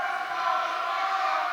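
A crowd at a wrestling match roars in a steady, dense wash of cheering and chanting voices that holds at one level throughout, with no single voice standing out.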